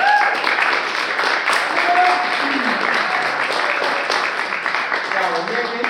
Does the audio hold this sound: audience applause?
yes